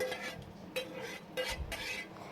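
Roasted spices scraped from a pan onto a plate, a few close scraping strokes of a spoon against metal with light rattling, no voices.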